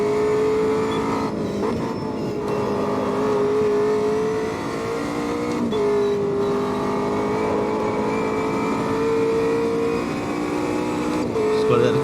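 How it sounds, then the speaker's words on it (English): A McLaren 720S GT3 race car in Automobilista 2 howls around the Nordschleife with a steady high engine note that rises and falls over bumps through twelve seconds, with a driver talking over it. "Just got to let the car go over those bumps"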